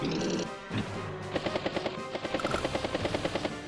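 A battlecopter helicopter unit in a strategy video game whirs with a steady rotor pulse, and a rapid, rhythmic string of gunfire-like thumps builds over dense game noise and effects.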